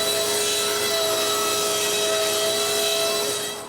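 A piece of wood is cut for a wall plate in a workshop, a steady, loud continuous saw or power tool noise with a constant hum that holds evenly before tapering off at the very end.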